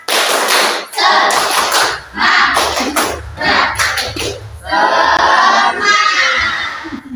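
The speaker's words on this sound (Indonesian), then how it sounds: "Tepuk semangat" An Indonesian school class does a rhythmic spirit clap, tepuk semangat: loud bursts of clapping in sharp groups, separated by short pauses, with children's voices shouting along.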